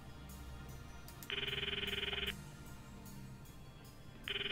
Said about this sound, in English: The ringtone echoes in my ears.